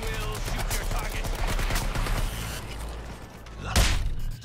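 Rapid gunfire rattles in Suicide Squad: Kill the Justice League, a steady stream of shots over a heavy low rumble, ending with a sharp louder blast near the end.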